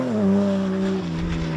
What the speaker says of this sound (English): Now your car sounds a lot less poorly than it did yesterday.